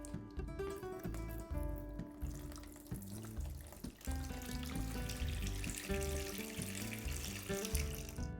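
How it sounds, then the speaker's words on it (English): Water pours steadily into a plastic container for pizza dough, a faint continuous splash and trickle under background music. "add the water into your plastic container."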